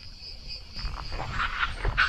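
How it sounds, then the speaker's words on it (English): Cicadas on a Greek island shrill in a faint, steady high drone beside the water, partly buried under a broad outdoor rumble and rustle that grows louder toward the end. "Love hearing the sounds of the cicadas and the lapping of the water"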